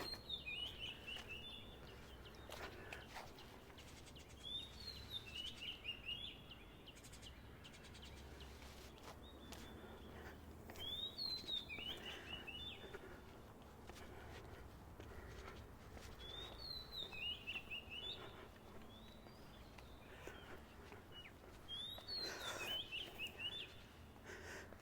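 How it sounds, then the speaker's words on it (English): Birds singing in a small park in Medini, Johor, with repeated bright chirping phrases every few seconds over a steady outdoor ambience of insects and distant hum. "You can hear, I'm guessing you can hear, all the birds singing"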